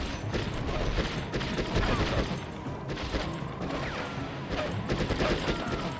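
Rapid bursts of gunfire from Conflict: Desert Storm on PlayStation 2, a dense fusillade of loud overlapping shots with mechanical clatter that runs throughout without pause.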